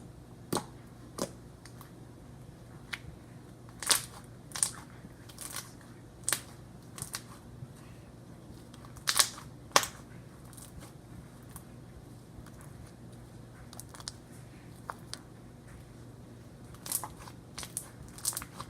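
Slime squished and pressed by hand inside a bowl, close-up, with scattered crisp crackling pops and sticky squelches at an irregular pace, fairly quiet and without talking.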